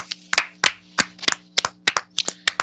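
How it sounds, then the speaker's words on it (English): Podcast hosts clap their hands together, about a dozen sharp, close claps in a quick, slightly uneven rhythm over a faint steady hum, with no talk. "Let's get an official clap."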